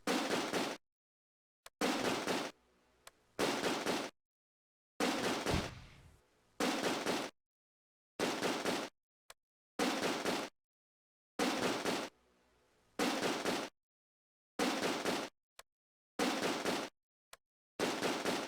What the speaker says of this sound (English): The advance continues under covering fire.